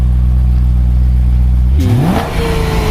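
A 2011 BMW M3 V8 engine idles with a deep steady rumble, then revs sharply upward in a loud, rising roar before settling back.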